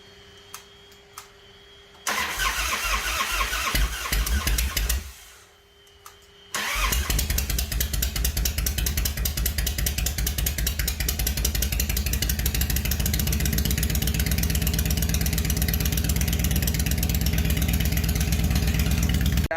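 A Harley-Davidson Dyna motorcycle cranks with a starter whir, stops briefly, then fires and settles into a loud, lumpy, continuous idle close by, with no voices.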